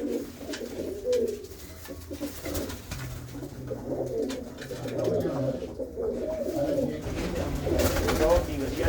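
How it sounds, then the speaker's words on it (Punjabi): Pigeons, among them a black China pigeon, coo in a loft inside an old fort, a steady layered burbling of several birds close by, with someone talking at times over the calls. "ਆਹ ਕਾਲਾ ਚੀਨਾ ਦੇਖੋ ਬਾਈ"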